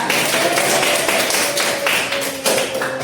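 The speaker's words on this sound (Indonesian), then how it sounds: "Tepuk tangan untuk kita semua" A classroom of students claps together after a micro-teaching lesson on enzymes, a dense burst of hand claps filling the short span at close range, with a faint voice underneath.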